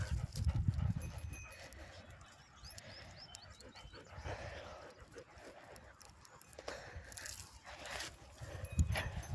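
A dog makes low grunting, snuffling sounds close by, with scuffing and a few faint clops among outdoor noise.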